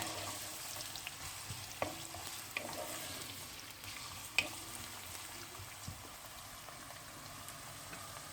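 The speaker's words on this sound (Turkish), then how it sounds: "Malzemelerimizi kavurduk." Vegetables sizzle quietly in olive oil in a pot, a soft continuous crackle broken by a few light clinks and stirring knocks.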